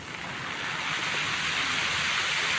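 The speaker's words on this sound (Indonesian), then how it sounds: "ombak yang sangat besar di Pantai Maruni" Heavy surf roars continuously at Maruni Beach, a broad wash of large breaking waves swelling slightly louder, with no voices.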